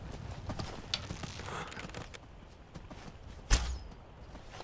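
Hoofbeats of a deer running in the video game Skyrim, a rapid clip-clop of hooves over soft ambient game sound, with one sharp louder hit partway through.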